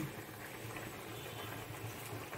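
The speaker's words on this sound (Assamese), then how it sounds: "এতিয়া উতল আহিছে" Vegetable curry with lai greens bubbling in a pot, a faint steady low simmer with soft irregular popping, quiet and continuous with no talk.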